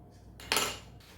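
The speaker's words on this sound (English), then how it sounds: "Mix everything together well with a big old metal spoon" A big metal spoon clinks and scrapes once against a mixing bowl of Christmas mincemeat, a short, close metallic scrape lasting about half a second in an otherwise quiet moment.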